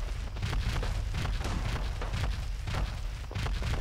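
Dense, continuous battle noise from Fallout 4: rapid gunfire mixed with booming explosions and crackling bursts, loud and unbroken across the whole stretch with no voices.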